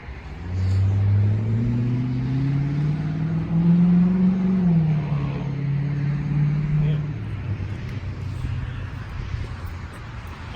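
A 2006 Dodge Magnum with a 5.7 HEMI V8 and its muffler and resonator deleted rumbles loudly up close, its deep exhaust note rising and falling through a rev before settling back to a throaty idle.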